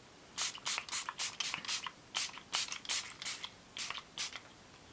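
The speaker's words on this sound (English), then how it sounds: "I'm spraying my face right now with my favorite Pure Cosmetics Miracle Mist" A Pure Cosmetics Miracle Mist facial spray bottle misting onto a face in quick repeated hissing bursts, over a dozen short pumps in an uneven rhythm, close and fairly crisp.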